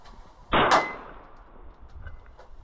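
A single sharp shot from a KelTec PMR 30 pistol firing test ammunition cracks out loud and close, followed by a brief metallic ring and then quiet outdoor background.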